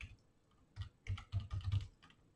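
Keys clatter on a computer keyboard while HTML code is typed into a notepad editor, a quiet cluster of quick taps in bursts, close by and alone.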